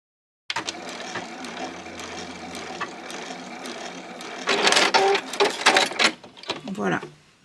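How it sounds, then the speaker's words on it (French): A sewing machine stitches the back facing of a blouse, a steady mechanical whir running for a few seconds, then fabric handling and rustling with quick clicks, close and fairly quiet. "Maintenant, on va coudre la parmenture dos."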